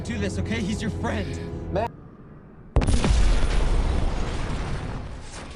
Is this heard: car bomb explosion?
yes